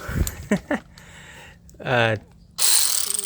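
An automatic ratchet clicks while pulling spark plug sockets from a 2007 Infiniti M35 engine, with short bursts of ratcheting between spoken remarks and a louder burst at the end.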